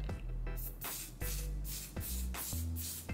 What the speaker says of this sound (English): I'm just going to get a little bit of hairspray because I have a lot of baby hairs.